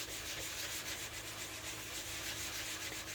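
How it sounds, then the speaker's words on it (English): Washcloth with Dawn dish soap rubbing across a Cricut cutting mat, a steady close scrubbing swish that continues without pause and without talk. "Just going to put a little bit of Dawn on it, and then just gently start rubbing around."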